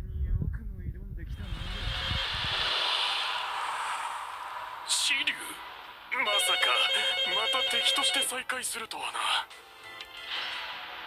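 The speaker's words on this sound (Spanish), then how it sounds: "Se pone a sonar mi teléfono cuando no debe sonar." A phone ringtone plays a repeating electronic melody partway through Saint Seiya Awakening gameplay, mixed with a voice talking and other background sounds.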